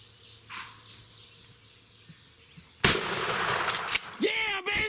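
A single loud, sharp gunshot cracks out during a spring turkey hunt in Pennsylvania, breaking a quiet woodland scene with faint birdsong and followed by a sustained noisy aftermath and rising calls.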